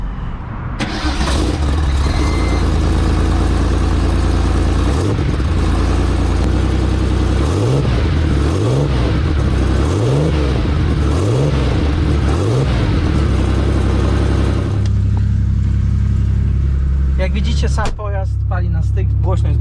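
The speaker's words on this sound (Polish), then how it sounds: "Silnik jest zimny, więc tylko go odpalę, nie będę gazował." A cold Porsche 911 (964) Turbo engine cranks and fires up, then settles into a loud, close idle without revving, its low rumble swelling and dipping a few times, with a voice talking over it.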